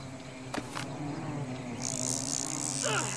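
Insect buzzing from a bee in the ARK: Survival Evolved video game, a steady high drone rising partway through alongside faint game effects and a couple of brief clicks.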